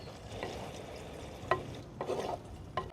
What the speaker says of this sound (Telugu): బెండకాయ ముక్కలు వేస్తున్నానండి.